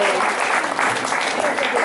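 A live audience at a Halloween senior health fair claps for a volunteer assistant, steady dense applause filling the whole short stretch at close range, with a few voices mixed in.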